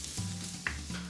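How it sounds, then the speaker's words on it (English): Butter sizzles with Brussels sprouts in a hot pan on a switched-off burner, a soft steady crackle with a low hum beneath and a couple of light scraping clinks from stirring. "I'm going to add just the remainder of this butter just to keep the Brussels sprouts nice and moist"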